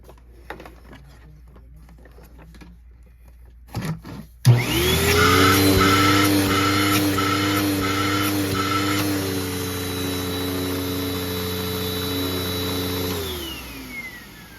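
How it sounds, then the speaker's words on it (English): A clogged vacuum cleaner switches on with a thump and runs as a loud, steady, close whine. Its pitch shifts partway through before it winds down near the end. "this vacuum, I was filming earlier today and it has a clog, so let me turn it on to demonstrate"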